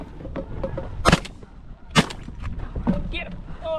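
Shotgun blasts ring out during a rainy goose hunt, three sharp cracks roughly a second apart, loud and close against wet outdoor background noise, with voices around them.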